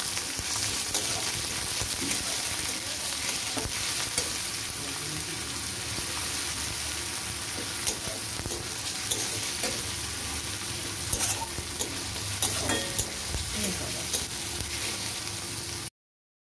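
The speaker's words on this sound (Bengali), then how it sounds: "দিয়ে দিচ্ছি একটু পেঁয়াজ বাটা" Onion paste sizzles steadily in a hot pan while being stirred, cooking down for a spicy chitol fish curry. A continuous close frying hiss carries soft scraping from the stirring throughout, with no voices.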